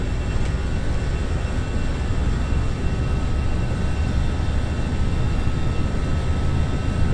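Steady, loud roar of easyJet A320 jet engines during a takeoff roll in the Prepar3D flight simulator, a broad continuous rumble with a faint high whine and no pauses.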